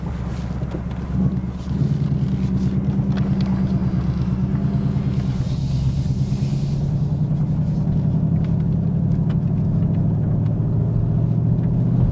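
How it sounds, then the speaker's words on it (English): A 2022 Ford Mustang Mach 1 pulls away, its engine rumbling loudly and steadily from inside the cabin, the pitch rising as it accelerates, with some wind noise. "setting off in the Mach 1 Mustang"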